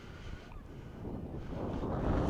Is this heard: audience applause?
no